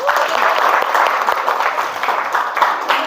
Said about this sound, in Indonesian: Tepuk tangan untuk yang pertama.